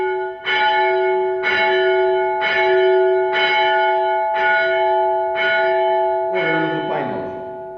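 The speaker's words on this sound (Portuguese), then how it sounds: "nesse momento do Pai Nosso era badalado o sino" A church bell tolls during the Lord's Prayer at a youth worship service, seven loud, evenly spaced strikes about once a second, each ringing with a sustained metallic hum, the last one roughened by a clattering noise.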